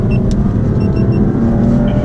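A BMW M4 engine rumbles loud and close with a deep, steady growl as it revs, no voices.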